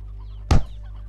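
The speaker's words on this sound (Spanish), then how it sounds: "Hay un montón de gallinas." A single short clucking burst from a chicken in the video game Slime Rancher, brief and fairly loud over a steady low background hum, with no talking.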